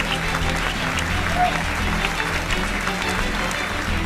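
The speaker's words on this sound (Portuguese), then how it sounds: "Bate palmas para Jesus." A church congregation claps during a sermon, a steady, full round of applause filling the room with a low hum beneath it and faint voices mixed in.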